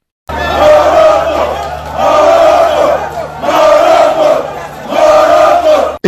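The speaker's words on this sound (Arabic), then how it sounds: "هي مشاهد فرحة مزدوجة بين جمهور بلدين شقيقين" Ivory Coast and Morocco supporters celebrating in a stadium, a loud roaring crowd chanting in four long swelling waves with brief dips between them.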